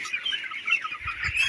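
Nineteen-day-old broiler chickens squabble over freshly poured feed, a dense, close chorus of overlapping clucks and chirps, with a few low thumps near the end.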